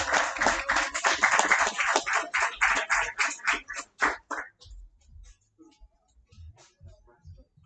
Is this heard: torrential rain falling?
no